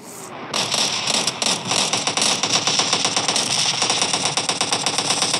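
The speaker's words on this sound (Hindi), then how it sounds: "भाई कहां से फायरिंग चल रही है?" Sustained rapid automatic gunfire in the PUBG Mobile Lite game, loud dense bursts of shots rattling continuously from start to finish with no talk over them.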